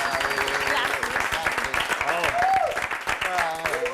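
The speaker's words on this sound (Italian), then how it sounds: "Fermo che un applauso!" An audience at a variety show claps steadily in a dense, continuous patter, with voices calling out over the applause.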